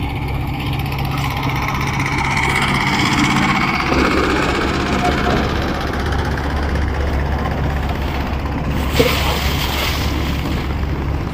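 A small engine-powered dinghy boat runs on the Meghna river, its loud, steady low engine drone filling the whole stretch with a hiss of wind and water over it, close and unbroken.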